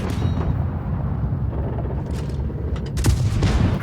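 Video game gunfire with armor penetration mechanics rumbles as dense, booming low-end blasts in a continuous barrage, with a few sharper cracks near the end.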